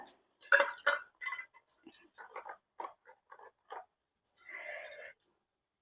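Metal puja plate being set down and handled while preparing items for the Varalakshmi Vratham ritual, giving a series of close, light clinks and taps with brief gaps, plus a short scraping rustle near the end.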